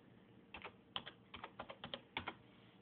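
Keys tapped on a computer keyboard in short irregular bursts of clicks, fairly quiet and close, with no talking.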